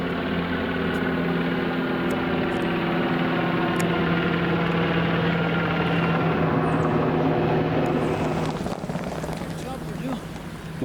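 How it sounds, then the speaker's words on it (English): A helicopter passes overhead along a wooded run in fall foliage, its steady engine and rotor drone droning continuously at moderate distance with people speaking over it. "What's that chopper?"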